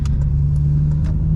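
An 8th gen Honda Civic Si engine droning steadily from inside the car at the start of an acceleration pull, a loud, even hum with a few light knocks over it.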